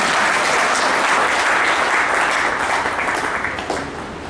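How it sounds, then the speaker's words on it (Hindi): Steady, loud applause from an audience welcoming a guest at a ceremony for a wage agreement in Mandideep, dense and continuous before thinning slightly near the end, with no talking. "जोरदार तालियों से स्वागत कीजिए।"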